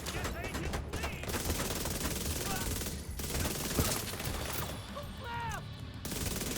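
Submachine gun fire in a video game, bursts of rapid shots crackling amid chaotic combat noise, with brief pauses between volleys and shouted voices mixed in.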